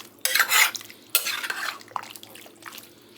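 A spoon stirs a pot of cooled pot roast noodles before freeze-drying, giving two scraping, clattering strokes against the pot followed by softer scrapes, close up and without talk.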